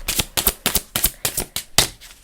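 Tarot cards are shuffled by hand in a steady rhythm of about eight quick, crisp riffling bursts, close and fairly loud, with no talking.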